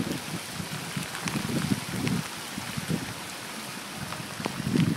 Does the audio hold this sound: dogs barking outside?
no